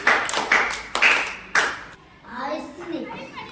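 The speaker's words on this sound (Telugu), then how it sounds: "క్లాప్స్ ఇవ్వండి అందరూ." A third-grade class claps during a maths lesson, several sharp bursts of hand claps in quick succession, followed by a voice talking.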